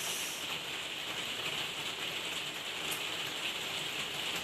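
Heavy, thunderous rain falls in a steady, dense hiss that holds without a break, close and fairly loud, with no voices over it.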